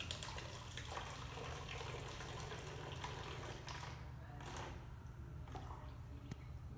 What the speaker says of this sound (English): I'm gonna pour all of this into my bottle here